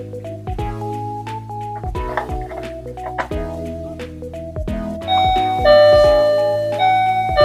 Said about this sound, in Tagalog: our wireless doorbell is function well